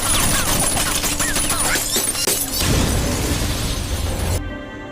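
Police car blowing up in a film scene, loud gunfire bursts and shattering crashes followed by a heavy rumbling blast that cuts off abruptly near the end.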